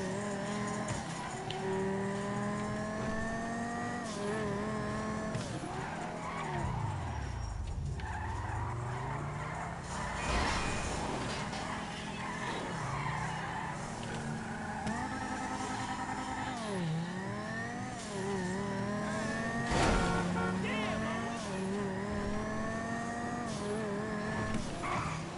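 A video game car skids with squealing tires while its engine revs up and down again and again, loud and continuous, with no talking.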